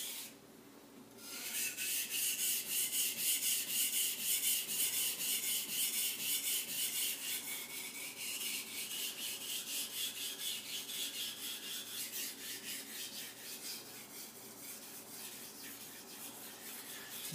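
A Dojo kitchen knife is sharpened on whetstones, giving a steady, close, gritty rasp of repeated back-and-forth strokes that carries on evenly throughout with no voices.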